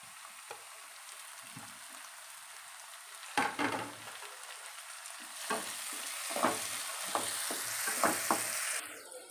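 Chopped onions and tomatoes saute in a pan, a soft continuous sizzle with spatula scrapes and clicks that grow busier after the third second, close and moderately quiet with no speech.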